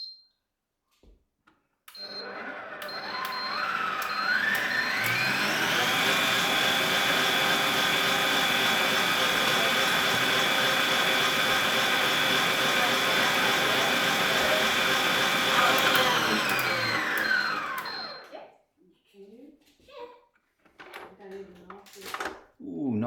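A Zuccie stand mixer motor whirs loudly and steadily for about fifteen seconds, rising in pitch as it spins up and winding down at the end, with quieter handling noises after it stops.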